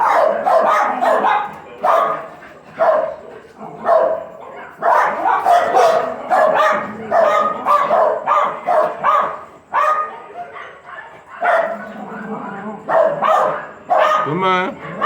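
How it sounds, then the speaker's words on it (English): Several loose dogs bark repeatedly outdoors, a busy overlapping chorus of yaps and woofs at moderate distance, with a brief higher yelp near the end. "The wild dogs were outside"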